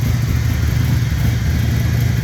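A speedway engine runs steadily after starting, loud and close, with a constant mid-range drone and no talk over it; the machine is being checked for an oil leak.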